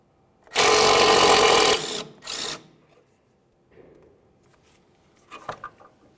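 Power ratchet spinning a 10mm bolt off an emergency brake cable bracket on a 2002-2005 Ford Explorer: one loud, steady whir of about a second, a shorter burst after it, then faint clicks and handling noises.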